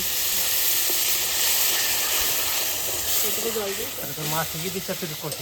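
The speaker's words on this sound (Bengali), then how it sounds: "একটু জল দিয়ে আমরা মশলাটা ভালো করে কষিয়ে নেব" Masala with Kashmiri chili powder and a splash of water frying in a pan for rita fish curry, giving a loud, steady hiss and sizzle throughout, with a voice talking near the end.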